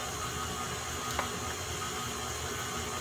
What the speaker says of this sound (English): And then I'm going to stop the blender.